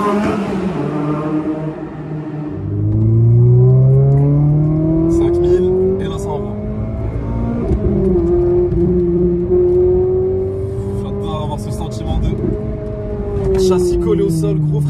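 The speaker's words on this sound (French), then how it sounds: "Châssis collé au sol, gros freinage, downshift." A Renault Clio RS fitted with a loud Cobra exhaust brakes hard and downshifts, the close engine note sweeping up and down through several blips and revs while a voice talks over it.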